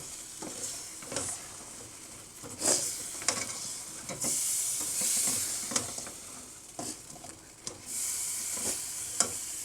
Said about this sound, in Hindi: अब आप इसमें अपने चिकन डाल दें जो आपने फ्राई करके रखे हैं